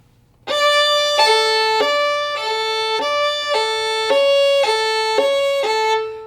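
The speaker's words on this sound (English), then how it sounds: "do your fingers sound poppy going down as well as going up?" A bowed fiddle holds a steady tone while fingers pop onto and off the strings, shifting the pitch crisply every second or so.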